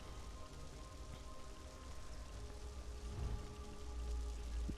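Endless Hail, a bow skill in Elder Scrolls Online, lands as a dense, continuous patter like heavy rain on a surface, growing slightly louder toward the end, with no talking.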